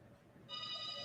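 A mobile phone's ringtone starts halfway through, a steady bright electronic tone, fairly faint behind the room.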